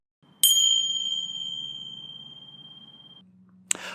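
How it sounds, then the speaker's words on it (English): A single bright bell ding marks a podcast break, striking sharply and then ringing out in a long, slowly fading tone before a short thud ends it. "That bell was just to alert you that we're going to take a quick break"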